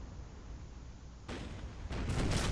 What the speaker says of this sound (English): The artillery barrage continues